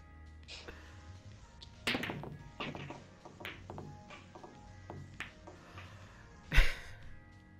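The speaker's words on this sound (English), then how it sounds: "Playing pool!" Billiard balls clack in a game of pool in Yakuza Kiwami, a series of sharp, scattered knocks with one loud crack near the end, mostly alone over a low background.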